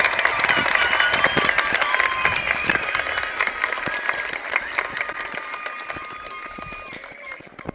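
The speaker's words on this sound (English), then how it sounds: "please give our graduates another round of applause because they are worth being here today." Sustained applause and cheering from a large crowd honoring graduates at a high school graduation ceremony, loud and steady for the whole stretch, with dense clapping and scattered shouts throughout.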